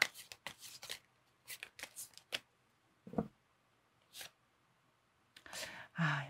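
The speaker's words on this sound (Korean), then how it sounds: "두 장의 카드를 뽑아보도록 할게요" Tarot cards being shuffled and drawn make crisp, quiet riffling bursts with short pauses between them. The sound is close and soft, with faint breaths or murmurs.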